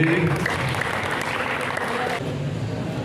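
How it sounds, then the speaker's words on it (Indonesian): Steady applause from an audience fills the room at the opening of an art exhibition, dense and continuous for about three seconds before easing slightly near the end. "Ya, tepuk tangan lagi."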